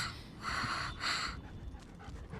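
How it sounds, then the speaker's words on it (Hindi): An elderly woman's dog pants quickly and close by in short bursts, then the panting fades to faint breathing. "लगता है ये उस बूढ़ी औरत का कुत्ता है"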